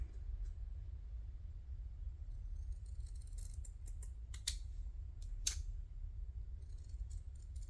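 Scissors snip around a handmade paper journal tag, with a cluster of crisp, close cuts in the middle of the clip over a quiet room hum. No one speaks.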